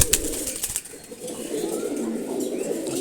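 Racer pigeon and Giribaz pigeon scuffling in a loft, with bursts of wing flapping and scrabbling early on, then steady soft cooing and rustling close by.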